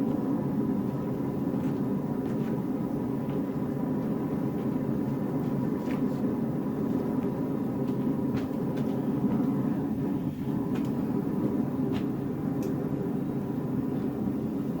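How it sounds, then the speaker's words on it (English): A seax knife blade forged from an old file is ground on its edge, producing a loud, continuous abrasive roar that stays steady and unbroken from start to finish. "we're going to start the grinding on it"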